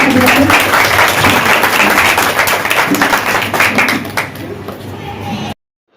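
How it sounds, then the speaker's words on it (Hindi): An audience at a Sanskrit talent search competition event in 2024 breaks into steady, fairly loud applause with crowd murmur, the clapping thinning out before cutting off abruptly near the end. "एक बार जोरदार ताली हो जाए सभी लोग।"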